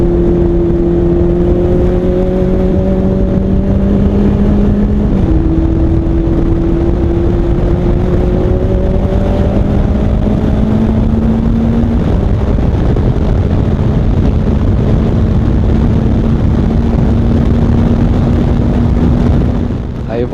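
Ginetta G4 race car engine at speed on a circuit during a race, its steady loud drone rising in pitch through the gears with wind buffeting the onboard microphone throughout.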